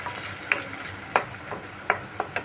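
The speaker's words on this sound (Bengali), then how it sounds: "এবার গ্যাসের আঁচটা কম করে এই মশলাটাকে ভালো করে কষিয়ে নিতে হবে" Ground spice paste for a snakehead fish curry fries over a low flame, a soft steady sizzle broken by several distinct scraping strokes of a spoon stirring the pan, close by with no talking.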